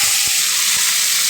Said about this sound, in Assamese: পিঁয়াজটো অলপ ভাজি ল'ম